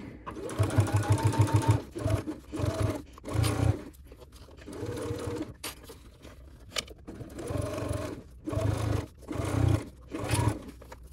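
Sewing machine stitching the gusset seam of a crossbody bag in repeated short bursts with pauses, close and clear, its rapid needle chatter starting and stopping.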